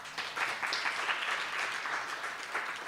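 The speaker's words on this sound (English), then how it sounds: "Give them a round of applause." An audience at a Sunday temple feast applauds the volunteer kitchen cooks, a fairly soft and even wash of many hands clapping that continues without a break.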